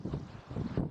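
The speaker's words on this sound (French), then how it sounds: "Oh, le vent. désolé pour le vent." Wind buffeting a microphone outdoors near a monks' chapel, a low rumbling roar with uneven gusts over about a second, no speech.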